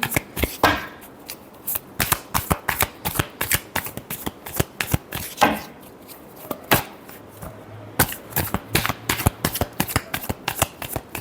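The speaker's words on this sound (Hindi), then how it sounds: "Last shuffle." Tarot cards are shuffled by hand in quick riffling bursts, a dense run of sharp close-up flicks and snaps with brief pauses between rounds.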